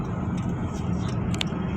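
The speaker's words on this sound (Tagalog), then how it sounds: "Ayan, may sasakyan sa unahan anak" A car travels along a foggy road with a steady, close engine and road rumble throughout, plus a few faint higher clicks near the end.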